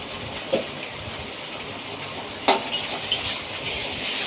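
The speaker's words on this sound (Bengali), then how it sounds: "নুন দিয়ে আবার নাড়ছি, একটুখানি অল্প করে কষে নিচ্ছি।" Fried okra being stirred with salt in a pan on a home stove, a steady soft sizzle with a few sharper scraping clicks of the spoon against the pan, close and alone without talk.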